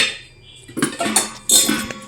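Stacked antique copper vessels, not brass, clatter and clink as they are handled, with two bursts of close metallic knocking and ringing after a quiet start.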